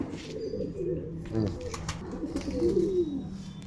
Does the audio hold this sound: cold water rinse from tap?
no